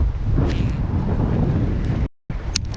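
Loud, steady wind buffets the microphone outdoors on the water while an ultralight lure is cast for bass. The roar holds throughout, cuts out briefly near the end, then returns.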